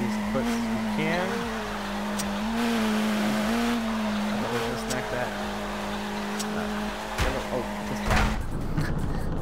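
Torque Drift race car drifting at Irwindale: a steady, loud engine drone holds a constant pitch for several seconds, breaks off near the end, and tire squeal stays faint underneath. Someone talks over it.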